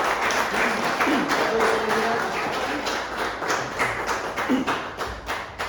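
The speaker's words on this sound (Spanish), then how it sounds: "Démosle un aplauso." A church congregation giving a round of applause after a prayer, dense continuous clapping that fills the room and stays fairly loud throughout, with faint voices mixed in.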